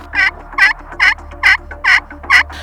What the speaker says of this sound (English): I'm gonna hit him one more time and see if he'll gobble again.